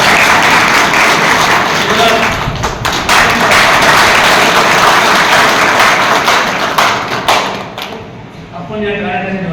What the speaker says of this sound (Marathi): एकदा स्वतःसाठी टाळ्या